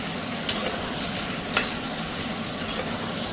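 Sliced onions sizzle steadily in a hot pan for a home-cooked gravy, with a couple of sharp scraping clicks as a spoon stirs them through the oil.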